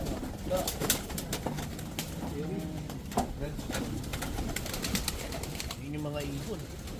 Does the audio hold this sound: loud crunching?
no